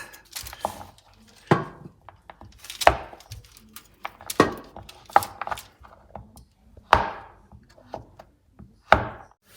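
A knife chopping through a chocolate bar on a board, sharp separate knocks at irregular intervals, about eight or nine strikes, close and fairly clear with no talking.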